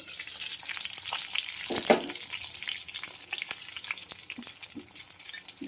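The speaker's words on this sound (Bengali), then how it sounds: "আবার ঢাকা দিয়ে ভালো করে ভেজে নেব" Stuffed pointed gourd frying in a covered pan, a loud crackling sizzle with irregular spitting bursts and occasional stirring knocks, close and continuous throughout.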